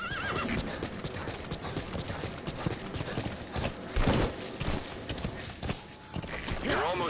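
A horse in the video game Metal Gear Solid V clip-clops along steadily with repeated neighs and whinnies, loud and close over a busy in-game soundscape, with game voices speaking at times.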